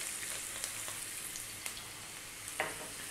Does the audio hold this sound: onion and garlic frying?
yes